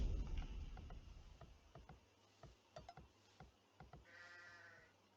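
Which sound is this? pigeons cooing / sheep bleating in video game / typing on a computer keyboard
sheep bleating in video game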